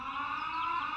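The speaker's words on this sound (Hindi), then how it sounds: "इस मनहूस सायरन को अभी बजना था" A steady, wailing siren holds a continuous tone throughout, loud and unbroken, with no voices present.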